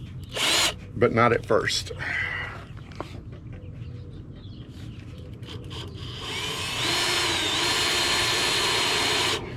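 A power drill with a 17/32 Harbor Freight bit whirs steadily through the second half of the clip, drilling a hole in a car trailer repair, preceded by clatter and short bursts of noise; a voice speaks briefly early on.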